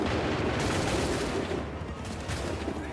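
Musket volley fire in Assassin's Creed 3, a loud, dense wall of overlapping shots and crackling blasts that rolls on steadily without a break, with no voices over it.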